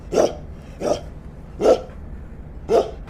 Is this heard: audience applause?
no